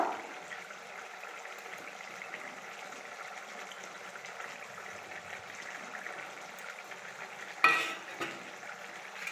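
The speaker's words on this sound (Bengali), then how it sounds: "এবার ভালো করে নেড়ে নেব।" Katla fish curry with banana being stirred in a pan: a quiet, steady sizzle and bubbling with soft scraping, and a brief clunk of the utensil near the end.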